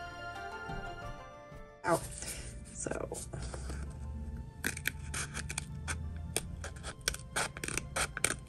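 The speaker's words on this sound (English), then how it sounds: "I cut the paper and then I cut the fabric." Scissors cut through paper in a series of quick, crisp snips and scrapes, close and fairly loud, with a person talking over the cutting.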